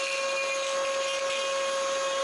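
A power drill whines steadily at close range drilling into a plastic steering wheel cover, one continuous high-pitched motor drone with no pauses and no voices.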